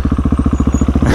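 KTM 701 motorcycle engine pulling hard in first gear, loud and close, a rapid even thumping single-cylinder pulse rising into a rougher roar at the end.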